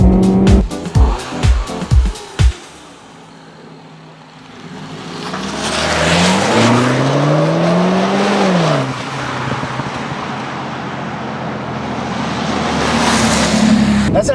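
A 2013 MINI Cooper S Paceman with a turbocharged 1.6-liter four-cylinder making 181 horsepower accelerates in third gear. A few sharp clicks come first, then the engine note climbs and falls back over steady road and wind noise.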